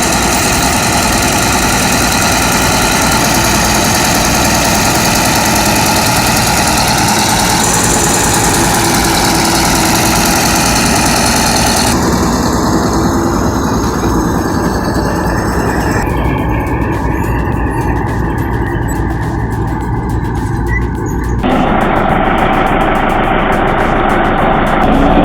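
A bulldozer engine works earth with a loud, continuous heavy diesel drone and rumble throughout, its tone shifting as the load changes.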